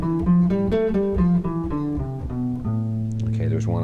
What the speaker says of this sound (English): you get an A natural minor scale. It sounds like this.